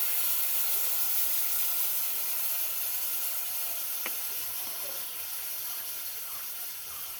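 Chili sauce hits a hot pan with a steady, close hissing sizzle that holds at an even level, tapering only slightly toward the end.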